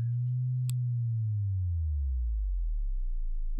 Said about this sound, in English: You hear the LFO doing its thing then.